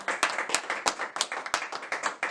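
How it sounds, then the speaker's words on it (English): Brief applause from a small group: a handful of close, sharp claps in an uneven rhythm, loud and alone without talking. "Everybody get a round of applause."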